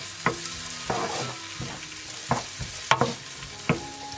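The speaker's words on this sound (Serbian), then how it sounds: "Mast se istopila i dodajem polovinu seckanog luka, druga polovina će nam trebati za kasnije. I pržim luk dok ne omekša." Chopped onion and garlic fry in melted lard, a soft continuous sizzle broken by sharp scraping knocks of a spoon stirring the pan several times.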